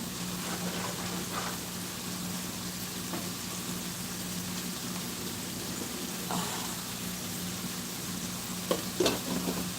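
Spaghetti sauce spiced with Bam hot sauce sizzles steadily in a pan at a low, even level, with a couple of brief clinks of stirring near the end.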